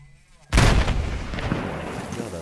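A fire grenade from a Minecraft weapon mod detonates after a short quiet moment, giving a loud close boom that fades into a long crackling, rumbling tail.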